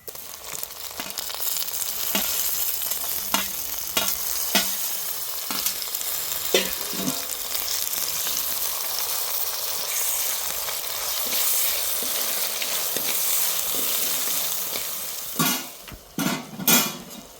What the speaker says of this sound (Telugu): ఇప్పుడు తరిగి పెట్టుకున్న టమాటా ముక్కలు వేస్తున్నా.